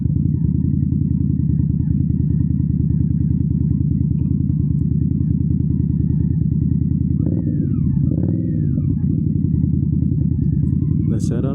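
An Indian Scout Bobber motorcycle riding, a steady loud low engine rumble running continuously, with brief engine note changes near the end.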